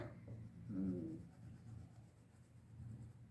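Soft, faint rubbing strokes of coloring a picture in, a quiet scratchy back-and-forth lasting a few seconds with a brief murmur partway through.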